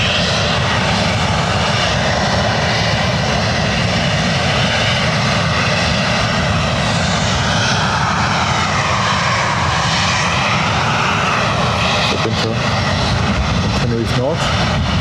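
A Binter airliner engine roars steadily at Lanzarote Airport, loud and continuous throughout, with a faint voice talking underneath near the end.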